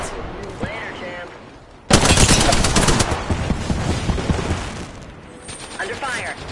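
Gunfire in the video game Apex Legends: a sudden loud burst of rapid automatic shots starts after a quieter stretch, then continues as dense, sustained firing with mechanical clatter and fades toward the end, while a game voice speaks around it.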